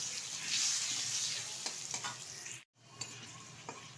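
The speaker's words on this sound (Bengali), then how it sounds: "আলুটা একটু ভালোভাবে ভেজে নেব।" Cut potato pieces with turmeric powder frying in a pan, a steady sizzle with occasional stirring scrapes, briefly cut off near the middle before resuming.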